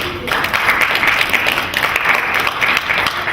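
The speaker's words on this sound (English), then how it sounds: "A round of applause as we welcome her" Studio audience applause greeting a guest on a healthy living TV show, a steady dense wash of clapping at moderate loudness lasting the whole few seconds.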